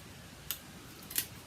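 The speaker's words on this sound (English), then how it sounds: "scissors to trim it off so it matches the sleeve" Two short, crisp snips of scissors trimming paper to match the sleeve of a handmade rod puppet, close and isolated against a quiet room.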